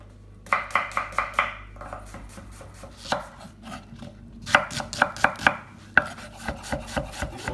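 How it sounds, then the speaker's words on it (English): Onions being chopped with a knife on a cutting board, a steady series of crisp, close knocks in quick bursts with short pauses between, no talking. "just get chopping the onions first."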